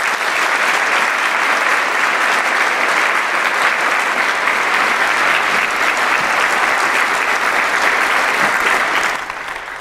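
An audience applauds to welcome speaker Tricia Griffith at a keynote address, a dense, sustained round of clapping that holds steady for nearly ten seconds before starting to fade.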